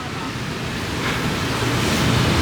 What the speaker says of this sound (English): Look at that drop, the water is gushing down there.